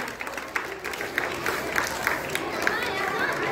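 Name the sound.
audience applause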